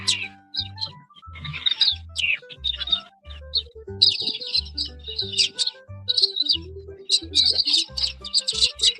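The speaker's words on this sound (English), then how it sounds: "They're actual real birds that aren't a recording." Real wild birds chirp and tweet outdoors in quick, irregular bursts of bright calls, fairly close, mixed with low rhythmic background music or noise.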